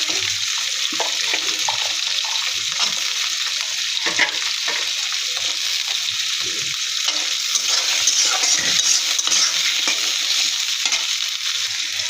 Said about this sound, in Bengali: চিংড়ি মাছের সাথে আমি আলু ভেজে নিব।